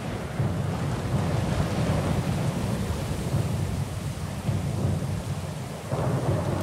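Steady rain pours with a continuous low rumble of thunder in a storm at sea around a small sloop in Pillars of Eternity 2. It is loud and dense, with no talk.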